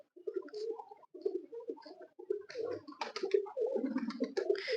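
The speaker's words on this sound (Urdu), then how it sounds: "یہ چیمپئن کبوتر ہے جی" A champion racing pigeon, a male, coos repeatedly in soft throaty rolling phrases, close up and fairly loud, with breathy pauses between calls.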